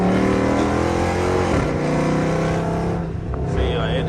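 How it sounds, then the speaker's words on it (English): Loud, steady engine drone from inside a Dodge Charger R/T being driven, with the tone shifting as a paddle-shift downshift occurs; constant cabin rumble throughout. "What you want to do is just flick it to the left, and it'll downshift."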